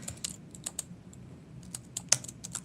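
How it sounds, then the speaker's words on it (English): Typing on a computer keyboard, a quiet, uneven run of soft key clicks with one sharper tap near the end, close by with no talking. "So if I start typing over here"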